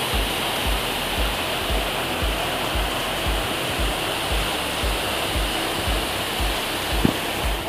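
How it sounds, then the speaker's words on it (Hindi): A waterfall in Chhattisgarh, India, roaring as a loud, steady rush of water that fills the scene, with no talk. "सबसे खूबसूरत वाटरफॉल दिखाता हूँ दोस्तों आप लोगों को"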